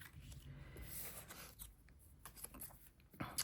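Scissors snip and rasp through card-making paper in a run of soft, close cutting strokes mixed with light rubbing and handling noises.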